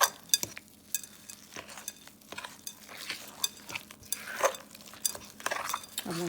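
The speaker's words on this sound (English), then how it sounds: "let me just mix this up" A spoon stirs cornbread batter mixed with whipping cream in a bowl, giving repeated wet scrapes and light clinks at an uneven pace, close and moderately loud.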